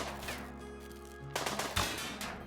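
Gunfire aimed at an auto charge turret in the colony-sim game RimWorld: a burst of sharp shots and rattling automatic fire arriving partway through, loud and close, with no talking.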